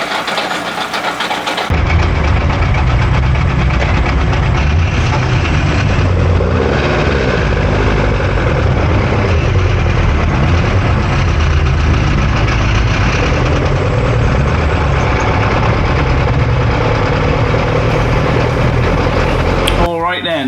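A modified Ford Cortina race car engine drones loudly and steadily from inside the car as it runs on track behind a pace car before a rolling start.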